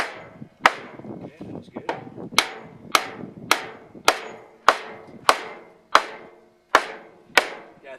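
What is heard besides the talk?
Milwaukee framing hammer setting nails back in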